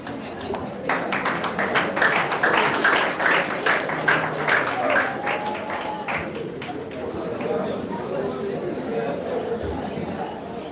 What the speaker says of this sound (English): Please, a round of applause for our staff advisor for that eloquent speech